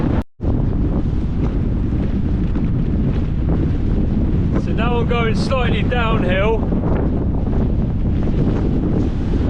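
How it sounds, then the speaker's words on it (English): A strong headwind roars steadily across the microphone while cycling in Iceland, a loud continuous buffeting that nearly masks someone speaking briefly partway through. "cycling into a headwind is not fun"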